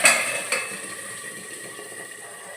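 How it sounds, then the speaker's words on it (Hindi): Tadka tempering sizzling in a pan while cooking spinach and mustard greens saag, a sharp hiss at the start with a second burst, then settling into a steady fading crackle heard alone. "छौंके की आवाज़ भी आ रही है तड़के की"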